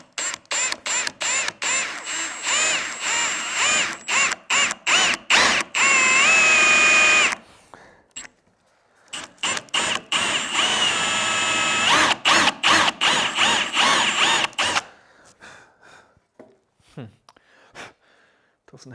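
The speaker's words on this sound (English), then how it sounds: "I need to drill out these now, 16mm holes" A power drill with a very blunt bit bores 16mm holes in wood for a belt display rack, whining in repeated short bursts and two longer sustained runs, loud and close, with pauses between.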